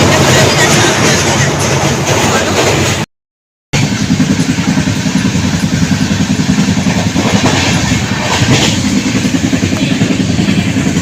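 A passenger train rolls along near Bardhaman, a loud continuous rumble of wheels and carriage heard from inside with rhythmic rattling, broken by a brief silent gap.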